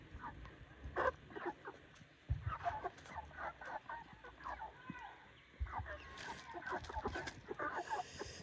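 Chickens cluck and chatter close by on a poultry farm, a busy stream of irregular clucks and short calls with occasional thumps and faint talk mixed in.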